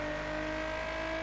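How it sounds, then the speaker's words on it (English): A Nissan 370Z V6 in The Crew holds a steady, droning engine tone at constant revs, a continuous hum with layered harmonics, heard alone without speech. "Like, this is a 370Z. It sounds like a 370Z."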